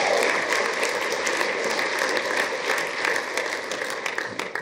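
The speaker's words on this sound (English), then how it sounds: "let's give them a round of applause" An audience at a leadership event in Las Vegas gives a round of applause, a dense, sustained wash of many hands clapping that thins slightly toward the end, with no talking over it.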